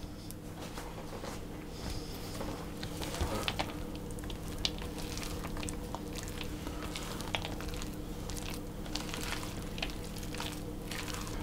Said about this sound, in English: And gently stir those around until they're all combined.